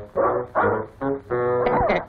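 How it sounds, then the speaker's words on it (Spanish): A dog chases someone in a wild, frenzied pursuit in a 1959 Mexican film, letting out four loud, harsh barks and yelps in quick succession close by, the last one drawn out and wavering. "¡Ahí va el perro hecho un demonio!"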